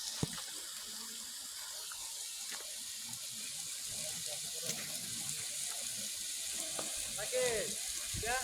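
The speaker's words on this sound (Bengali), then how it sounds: "ছোট্ট একটা ঝর্ণা সুন্দর" A small waterfall flowing down among the hills at Chandra Dinga, Panchgaon, Netrokona, making a steady, close rush and splash of water with faint voices in the background.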